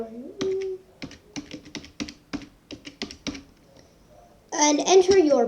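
Username being typed on a computer keyboard to sign in: a close, brisk run of separate key taps in an uneven rhythm, followed by a short burst of children's voices.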